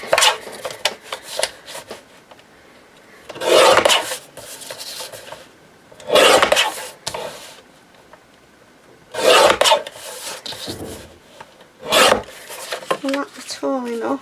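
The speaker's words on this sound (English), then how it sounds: "I'm wondering if I cut that in half. Let's use my trimmer." A paper trimmer slices paper for a handmade winter journal in a series of short, crisp sliding cuts, about five strokes separated by quiet pauses with small handling rustles between them.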